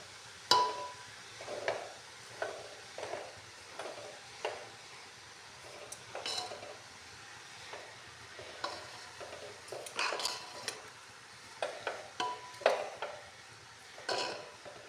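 A spoon stirs carrot halwa with cream in a pot, with no milk or khoya in the mix. Close, rhythmic scrapes and clinks against the pot repeat steadily over a quiet background.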